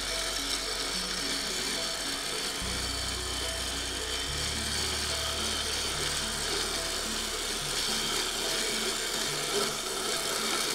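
A lathe spins very dry wood while a tool makes bevel cuts, giving a continuous close scraping rasp over a low motor hum that drops in pitch partway through.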